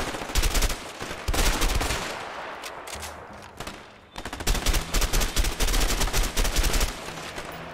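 Rapid automatic gunfire in a Mexico-set video game, loud and near, with dense bursts of shots filling nearly the whole stretch and a short lull in the middle before the firing resumes.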